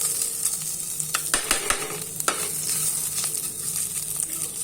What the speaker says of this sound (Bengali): রসুন আদাটাকে মিক্স করছি, আর গরম মশলা ফোড়ন দিয়েছিলাম।